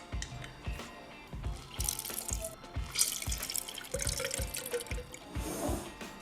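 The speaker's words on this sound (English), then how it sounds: "Now let's squeeze the juice out of the lemons." Halved lemons are squeezed by hand, with close, wet, squelching presses and dripping juice in an uneven series of short pulses.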